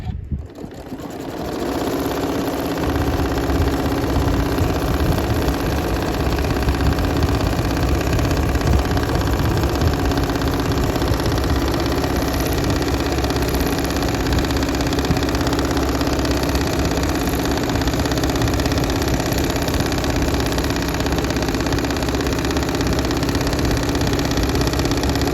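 A sewing machine runs at steady speed throughout, doing free-motion stipple quilting on a T-shirt memory quilt, a continuous close mechanical hum and needle clatter with no pauses.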